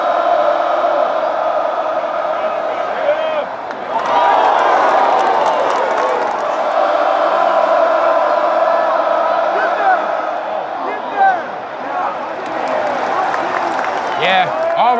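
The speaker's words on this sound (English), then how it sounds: "the crowd right now, definitely into it" A large football stadium crowd at the Oregon vs Oregon State college rivalry game roars and cheers steadily, with the swell rising near four seconds and again toward the end, loud and continuous around the listener.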